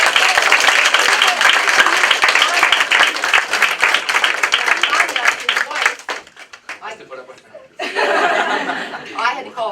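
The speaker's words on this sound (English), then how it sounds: "Big round of applause" An audience at a Ventura County Teacher of the Year event breaks into loud, dense applause, with chuckles mixed in. The clapping fades into scattered claps and talk, then swells again briefly.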